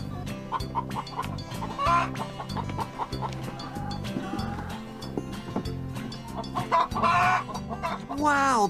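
A flock of chickens clucks and squawks continuously, busy and close, with a rooster-like cry rising near the end.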